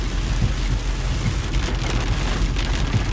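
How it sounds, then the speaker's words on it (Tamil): Light rain falling steadily during a slow car ride home from a family day trip to a waterfall, with a constant broadband wash and low rumble throughout, no talking. "வீட்டுக்கு கிளம்பிட்டோம் ஆனால் சிறியாந்திர மழை பெய்யுது"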